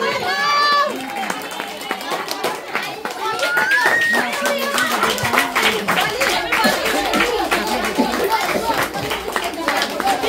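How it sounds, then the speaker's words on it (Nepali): Children and an audience clap at a Diwali club gathering honouring elders and children; scattered, uneven applause runs under loud, overlapping talk and children's voices. "कृपया नानी बाबु ताली बजाइदिनु होला।"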